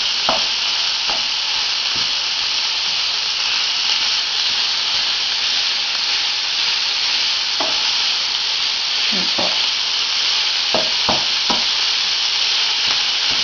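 250 grams of ground meat frying in a pan, a loud, steady close-up sizzle with occasional soft stirring scrapes and taps and no talking.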